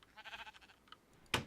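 Bleats from sheep in modded Minecraft, a short burst of harmonic calls near the start and then a louder, brighter cry at the very end, with no talk over them.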